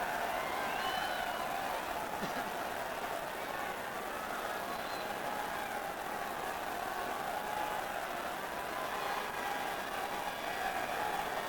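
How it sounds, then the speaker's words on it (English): Stadium crowd at the 1982 All-Ireland Gaelic football final between Offaly and Kerry breaking up after the match, a steady distant roar of murmuring voices and scattered noise, continuous and moderately faint. "While the crowd beginning to break up down in under us."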